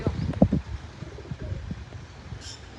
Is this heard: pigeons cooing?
yes